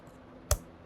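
A single crisp computer keyboard keystroke, close and brief, while pasting an API key, set against a faint quiet background.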